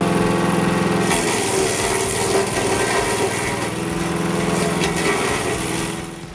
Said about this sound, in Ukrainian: Щепоріз Хелпер СП-60Б універсальний інструмент, який здатен на все.